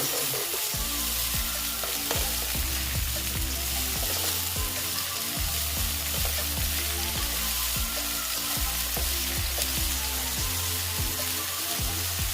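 Eggplant fries in a pan with salt for a Bengali fish curry with potato, giving a steady close sizzle broken by frequent scraping, tapping stirs, with no talk over it.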